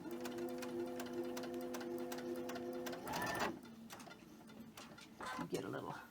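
A sewing machine stitches pieces of a gingerbread holiday quilt, without pins, with a steady close hum for about three seconds. Then come shorter bursts of stitching and handling noise, with a voice talking over them.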